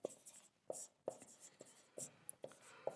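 Numbers handwritten during a class 9 maths lesson, with faint, short scratching strokes of pen or chalk in quick irregular bursts, nearby and quiet.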